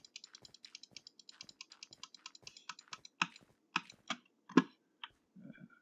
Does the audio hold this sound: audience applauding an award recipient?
no